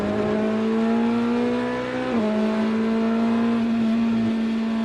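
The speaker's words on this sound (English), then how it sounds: "Lilou Wadu, the GTD pole sitter, makes her way around the outside of the 65 Mustang through turn 6" GT race cars, including a Mustang, Corvette, BMW and Porsche, racing through the corners at Road America during a six-hour endurance race, with a loud, sustained engine drone that rises and falls in pitch as the cars shift and pass close by.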